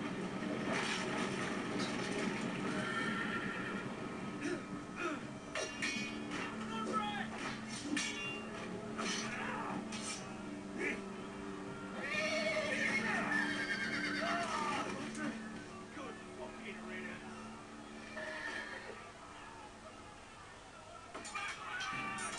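A horse neighs repeatedly in a Game of Thrones video game scene, its whinnies heard amid clip-clopping and other game sounds, with voices talking over it throughout.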